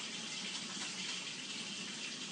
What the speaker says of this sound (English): I'll go ahead and wash my hands